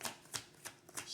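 Tarot cards being shuffled by hand: a quick run of four or five soft, crisp riffles in an irregular rhythm, close and quiet, with no talking.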